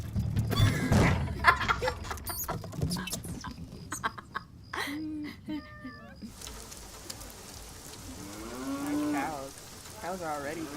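Cows moo in a few drawn-out, wavering calls, some rising and falling, with a cat-like meow among them, while people talk and react in between.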